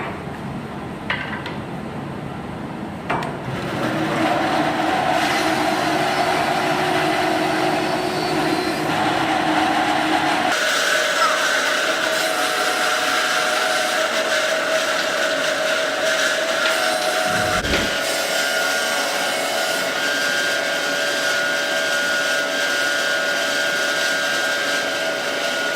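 A power tool, likely a planer, flattens the face of a lumber board down to a half-inch finished thickness, running as a loud, steady machine drone that starts after a few seconds and continues without talk.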